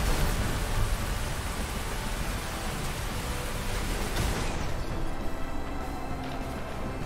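Rain in the mech strategy video game Phantom Brigade, a dense steady hiss of downpour filling the scene, loud and even, with the broad noise thinning slightly partway through and no talking.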